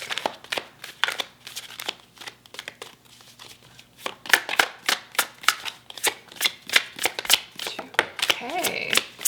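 Tarot cards being shuffled over and over, a steady run of sharp, close riffling bursts that quicken toward the end, with a voice speaking faintly underneath.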